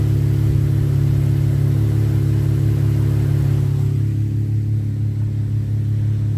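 Car fitted with MagnaFlow Magnapack exhaust, running steadily with a deep low drone and a faint lift in revs near the start, then settling toward a quieter, smoother tone, close and alone.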